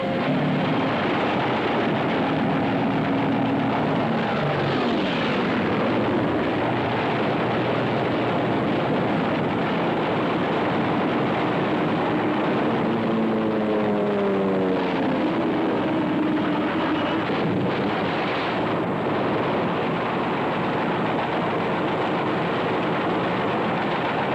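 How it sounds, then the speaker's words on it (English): Japanese torpedo bombers fly overhead during a Pacific wartime attack, a loud continuous engine roar that swells and shifts in pitch as the aircraft pass, with no speech. "Has been stirred up. Japanese torpedo bombers."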